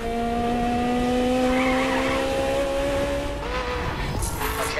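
Steady engine drone of a performance car driven in the racing game The Crew, with tire squeal rising over the tone, loud and continuous with no talk.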